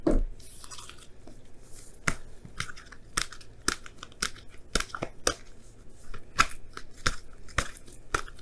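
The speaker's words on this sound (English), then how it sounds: "Now I'm going to pull you guys your wisdom of the oracle cards for this week." Oracle cards being shuffled, heard as a run of crisp, irregular slaps and riffling clicks at close range, with no talking.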